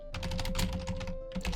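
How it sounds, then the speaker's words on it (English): Rapid keystrokes clatter on a loud, cheap computer keyboard, a quick run of close, sharp clicks with a brief pause before a few more taps. "Because I've got a loud, cheap keyboard."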